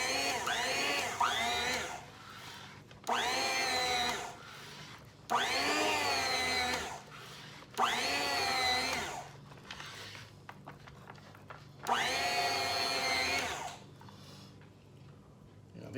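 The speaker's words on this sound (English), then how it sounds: "got my meat slicer here. It's a fairly cheap one from Cabela's, but it works well enough" A cheap Cabela's electric meat slicer cuts thin slices of smoked roast beef, its motor whining in repeated rising-and-falling passes of a couple of seconds each, with short quieter pauses between them.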